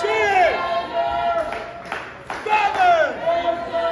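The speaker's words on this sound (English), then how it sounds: "we hear the crowd cheer for Jackson Sabre and the Warhound Roland Ha" Wrestling crowd at an NLW event roars after both men go down in a double knockdown, with loud, overlapping cheers, shouts and whoops that swell, briefly dip, then surge again, close and steady throughout.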